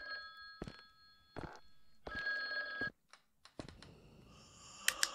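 A telephone rings inside a video game, its bright repeating bell bursts coming in several separate rings amid clunks and other game sounds, fairly close and clear.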